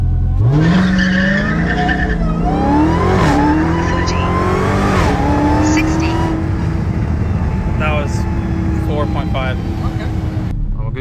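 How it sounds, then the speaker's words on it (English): Dodge Charger Hellcat widebody doing a rolling burnout, engine roaring loud and close with rising revs and tire squeal throughout, the note climbing and dropping as it pulls. "You're just gonna do a rolling burnout."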